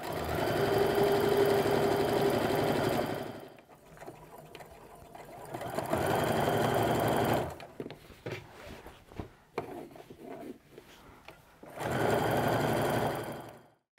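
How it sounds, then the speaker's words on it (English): Sewing machine running steady stitches across the top of an apron at an eighth-inch seam, with a long continuous whir, a pause with faint handling noise, then two more bursts of stitching. "I'm just going to go ahead and stitch all the way across the top with that 1/8 inch stitch"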